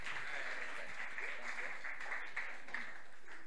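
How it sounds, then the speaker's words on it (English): Scattered, half-hearted clapping from a small audience at a Nerd Nite Tokyo event, thin and uneven beneath a murmur of voices and chatter in the room. "That was terrible clapping."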